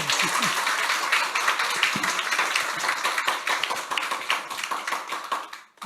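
A church congregation claps together during an anniversary worship service, a dense run of sharp hand claps filling the room for several seconds before stopping abruptly.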